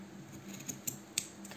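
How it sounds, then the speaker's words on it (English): Sharp sewing scissors snipping through loops of crochet yarn, three quick, faint close-up cuts over a soft background hiss. "cut with these, like I said, super sharp sewing scissors to give me approximately even"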